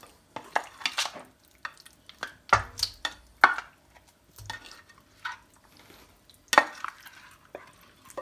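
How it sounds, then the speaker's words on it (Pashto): Meat goes into hot oil in a pot while cooking karahi, giving irregular sharp clanks and scrapes of stirring over a faint sizzle, close and uneven in rhythm. "غوښه ور واچوم"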